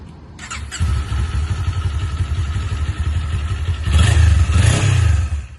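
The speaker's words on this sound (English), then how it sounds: "This is what the bike sounds like with stock exhaust startup." A Kawasaki Z400 motorcycle with stock exhaust cranks and fires up, settling into a steady, loud idle with a throaty rumble that swells near the end.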